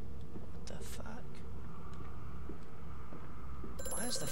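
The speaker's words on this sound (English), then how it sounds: "Why is the phone ringing now?" A telephone rings in the horror game Amnesia: A Machine for Pigs, short electronic ring bursts near the end over a low droning ambience, with faint whispery voices and scattered knocks earlier.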